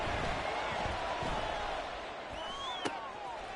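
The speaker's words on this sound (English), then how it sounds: "The crowd getting into it as we come up on a big 3rd down." Stadium crowd noise in the Madden 24 football game, Bengals vs Browns, building ahead of a big third down: a steady, dense roar that eases slightly partway through, with faint commentary underneath.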